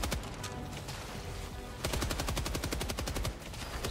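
Machine gun fire in the Helldivers 2 video game, rapid even bursts of shots that get louder and denser partway through, heard over a low game background.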